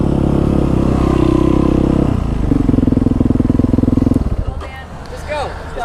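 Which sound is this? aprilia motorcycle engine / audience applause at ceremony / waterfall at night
aprilia motorcycle engine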